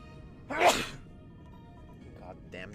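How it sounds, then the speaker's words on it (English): A single sharp, loud sneeze bursts out close up, followed by a few seconds of quiet room tone and a brief murmur of a voice near the end. "Goddamn sneeze."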